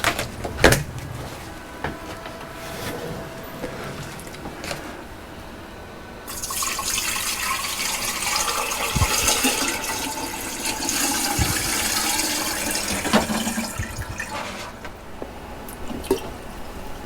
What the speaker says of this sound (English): Okay, I'm just going to refill it with water.